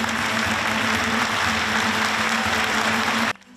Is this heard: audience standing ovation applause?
yes